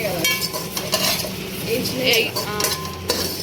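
Ingredients for a raw tomato chutney frying in a pan, a loud close sizzle with busy scraping and clinks of a spoon stirring against the metal, continuous over the whole stretch.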